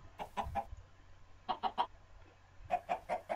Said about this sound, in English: they already got the chickens here waiting for me